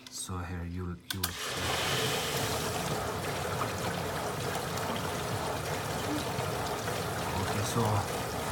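Water leaks from a cracked Danby portable dishwasher as a steady pouring, trickling stream, continuous and close, after a short moment of voice at the start.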